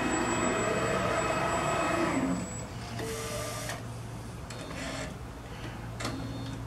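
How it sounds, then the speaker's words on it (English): A direct-to-garment printer lays down the color pass on a T-shirt, its carriage whirring loudly and then settling into a steady mechanical hum with repeated ticking and clicking movements. "now the printer is going to come back and print the color pass"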